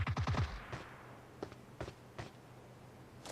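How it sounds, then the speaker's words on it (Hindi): Gunfire in the mobile video game PUBG Mobile Lite: a quick burst of rapid shots at the start, then several separate single shots spaced apart, fairly faint and with no talking. "मेरे ही टीम मेंबर ने फायरिंग की है।"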